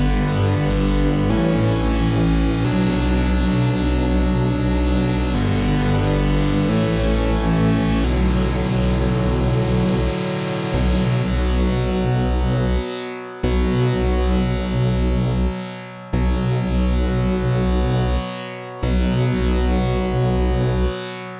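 Sustained synth chords repeat bar after bar over a deep, steady bass line, dense and loud, with a few abrupt cutoffs toward the end.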